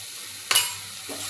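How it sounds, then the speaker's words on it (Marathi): Turmeric and spice masala sizzles softly in a pan, with a quick stir producing a brief scrape and hiss before the gentle frying settles back to a low crackle. "मसाला भाजून घेऊया चांगला."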